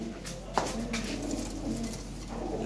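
Fancy pigeons at a sale in Lahore coo softly in soft rolling calls over a low, steady background hum.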